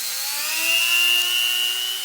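A Benchmark Dremel snake rotary tool spins up to 35,000 RPM, a high, steady whine that rises in pitch as it reaches speed and then holds, close and fairly loud.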